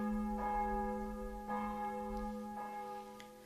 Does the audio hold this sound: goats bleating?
no